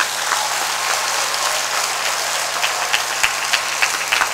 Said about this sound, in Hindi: वेरी गुड, ताली ऊपर ऊपर बजा दो।